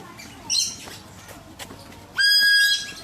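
Two shrill, piercing peacock calls, a short one and then a longer sustained cry, loud and close in a quiet outdoor setting.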